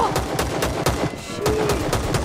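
Rapid gunfire in the mobile battle-royale game Rules of Survival: loud, evenly spaced shots crack out continuously in quick bursts, with no talk over them.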